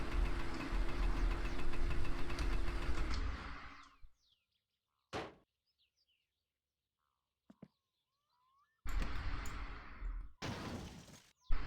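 A tractor engine runs in My Summer Car with a loud, rough, steady rumble. It cuts out, leaving near silence broken by a few thunks and clicks, then roars back for two loud bursts near the end.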